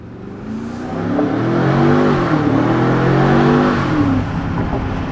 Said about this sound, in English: you can hear the difference when you open the valves. It sounds more aggressive.